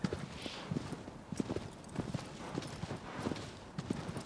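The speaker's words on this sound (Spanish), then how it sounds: "Es un caballo." A horse in the Shadow of the Colossus video game on PS5 trots with a steady rhythmic clip-clop of hooves, mid-distance and continuous.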